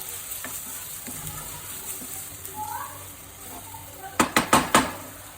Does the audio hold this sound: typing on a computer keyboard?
no